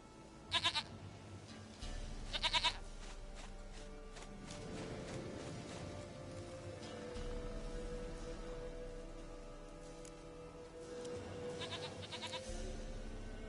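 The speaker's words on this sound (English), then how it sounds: "Goat of mine, dearest, sweetest goat." A goat in The Witcher 3: Wild Hunt bleats in short, wavering cries now and then over a steady bed of ambient game sound, with soft footsteps in between.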